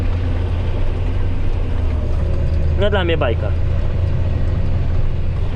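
Tractor with a rear-mounted implement working soil, a steady heavy low engine drone running throughout with a brief burst of talk over it in the middle.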